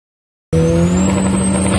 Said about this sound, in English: you can just hear it screeching the tires all the way down the track